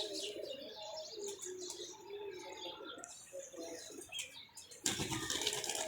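Soft pigeon coos and chirps in a quiet setting, ending in a sudden burst of rustling or fluttering wings.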